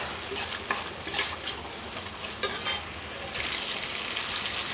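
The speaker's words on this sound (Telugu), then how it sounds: "టమాటాలని కొంచెం మగ్గించుకోవాలి కొద్దిసేపు ఒక పది నిమిషాలు మగ్గించాలి" Chopped tomatoes sauté in a pan for Telangana-style mutton curry, a soft continuous sizzle with light stirring clicks and a brief swell of frying noise near the end, no voices.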